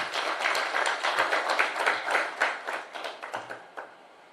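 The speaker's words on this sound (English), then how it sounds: "A round of applause for this amazing panel." A panel audience claps in a dense, lively round of applause at a women's breakfast meeting, steady at first, then thinning and fading out over a few seconds.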